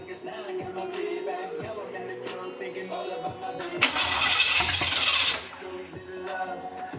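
A 1978 El Camino with a 305 V8 and no exhaust fitted cold-starts: a short, loud burst of cranking and catching that lasts a second or two, then settles, with people talking around it.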